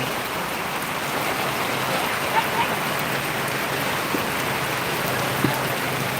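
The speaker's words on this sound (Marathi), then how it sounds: "बघा पावसाचं पाणी" Constant unseasonal rain hiss with splashing, running water at a vegetable market in Boisar, Palghar, steady and fairly loud, with a few faint voices and small knocks faint in the mix.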